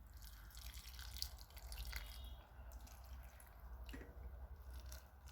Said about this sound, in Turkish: Evet ilk suyunu da verelim.